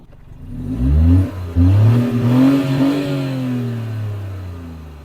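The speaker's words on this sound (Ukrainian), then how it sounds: "машинка на кастомному вихлопі. Зараз почуємо, як це все працює." A 2021 Mini Cooper 1.5 petrol automatic with a custom exhaust revs hard with a deep, throaty note, surging twice, then settling into a slowly falling rumble; loud and nearby, no voices.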